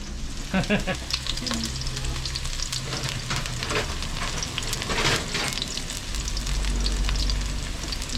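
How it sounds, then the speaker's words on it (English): Catfish curry sizzling in a pan at a fish cart, a loud continuous frying hiss with crackling bursts and the scrape of stirring, steady throughout with a low hum underneath. "we're cooking this catfish curry now"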